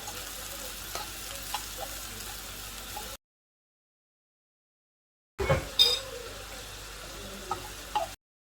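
Rice and meat fry in a pan while being stirred, a soft, steady sizzle with light scraping, cut off by a gap of silence and then resuming with a few clinks of the utensil.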